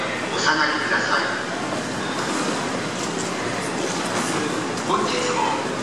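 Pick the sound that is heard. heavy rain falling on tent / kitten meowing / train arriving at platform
train arriving at platform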